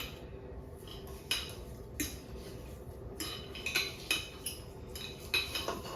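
A fork presses and clinks against a bowl or jar holding dried mint leaves steeped in oil for a homemade salve, giving scattered light metallic taps and scrapes close by, with no talking.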